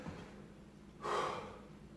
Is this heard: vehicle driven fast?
no